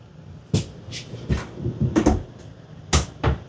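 Two soft-close drawers in the bathroom of a 2025 Jayco Pinnacle 38FBRK RV are shut, with a series of close, distinct wooden thuds and slides spaced over a few seconds.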